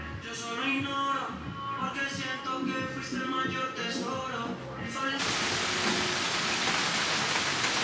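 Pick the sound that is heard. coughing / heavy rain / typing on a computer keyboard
heavy rain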